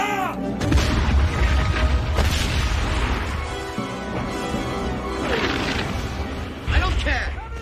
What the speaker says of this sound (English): Give the artillery the order to open fire.